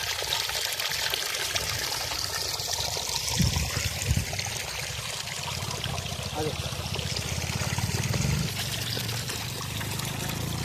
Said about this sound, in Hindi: इस पानी में आवाज सुन सकते हैं।